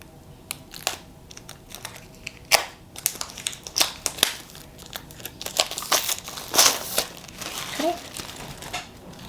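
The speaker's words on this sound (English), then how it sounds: "It has this little tab at the end to open." Crinkling and tearing of plastic packaging on an iPad box, opened by a pull tab, with sharp crackles and rustles, close by, in irregular bursts as wrapping is pulled open.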